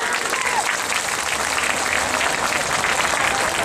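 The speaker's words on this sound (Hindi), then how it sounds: "उनका जोरदार तालियों से जरा स्वागत कीजिए।" Enthusiastic applause from a crowd welcoming guests at a local Indian news event, dense continuous clapping for several seconds, with faint voices mixed underneath.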